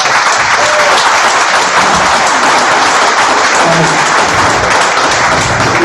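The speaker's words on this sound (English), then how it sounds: "Give yourselves another round of applause." Sustained applause from a storytelling-event audience, a dense steady wash of clapping that stays loud and unbroken throughout.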